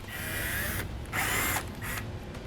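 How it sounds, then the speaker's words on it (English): Power drill with a Phillips bit backing out tail light screws on a trailer wiring install, heard as three close, loud whirring bursts of about half a second each with brief pauses between. "We just got 2 screws here and here."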